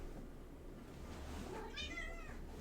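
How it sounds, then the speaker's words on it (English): A cat meows faintly indoors near a workshop, one soft drawn-out meow near the end over a low steady background hum. "Cat's meowing randomly again."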